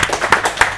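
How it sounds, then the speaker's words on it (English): A brief burst of close hand clapping after a timed eating challenge, a few quick, loud claps in a short uneven rhythm. "Give her a round of applause."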